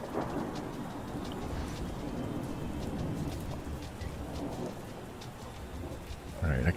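Steady rain ambience with rumbling thunder plays during a college football video game, a continuous soft hiss with low rolls, and a brief louder noise at the end.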